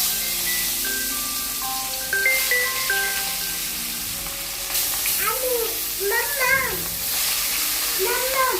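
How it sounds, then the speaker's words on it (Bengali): Fish fries in hot oil with a constant close hiss and sizzle, while voices and other tonal sounds come and go over it. "ও কি সুন্দর শব্দ মাছ ভাজা"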